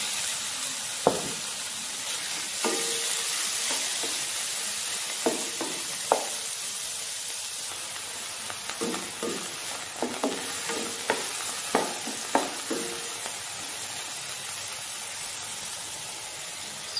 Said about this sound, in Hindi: 1 टेबलस्पून हमने ऑयल डाल दिया है। अब चिकन डालते हैं।